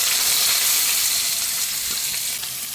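Chopped ginger, garlic and onion fry in hot oil with mustard seeds, giving a loud, continuous sizzle with a faint stirring scrape underneath, close and unbroken throughout.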